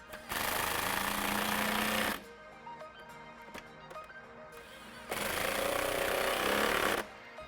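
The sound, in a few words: tightening two 10mm bolts on a Jeep cold air intake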